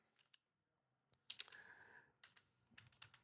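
Scattered keystrokes on a computer keyboard while searching for Python to download, a few isolated clicks, then a short burst of quicker typing and more taps, close and fairly quiet with no talking.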